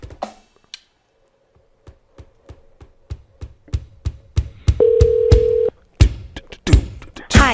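A phone sounds a steady tone for about a second amid a series of sharp tapping knocks and clatter, close and fairly loud.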